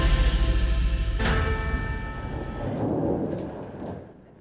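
Loud rumbling thunder rolls continuously with steady rain hissing underneath, a sharp crack breaking in partway through during a weekend storm over Cache Valley, Utah, where hail and snow also fell.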